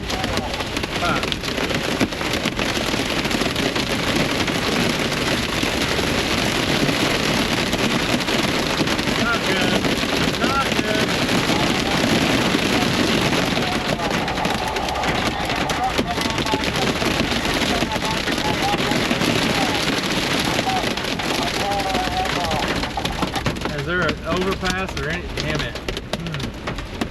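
Heavy, dense drumming of big hail pounding a vehicle's roof and body during a storm on the road, a steady loud roar of impacts throughout with some faint voices beneath.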